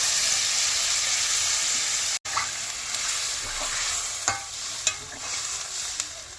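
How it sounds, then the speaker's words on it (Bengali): Mutton frying in a pan hisses loudly and steadily as water is poured in, the dense sizzle broken by a sudden brief cut and then several sharp spatters and stirring clicks. "এবার আমরা পরিমাণ মতো জল দিয়ে দেবো।"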